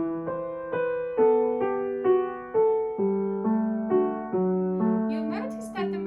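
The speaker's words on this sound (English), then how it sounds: "The first thing I wrote was the melody" Piano plays the melody of a Grade 2 piece, about a dozen clear single notes and chords spaced evenly in a calm, flowing line, close and resonant, with a brief soft voice near the end.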